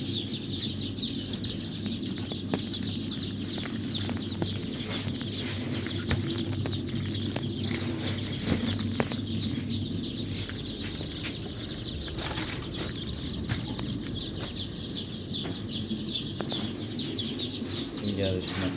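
Dense chorus of black chicks chirping continuously at a crowded poultry farm in Andijan, shrill peeps layered throughout with occasional flutters and clucks, voices murmuring in the background.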